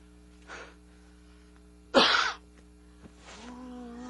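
A single sharp, forceful cough bursts out at close range, preceded and followed by faint breathy noises and a low background hum.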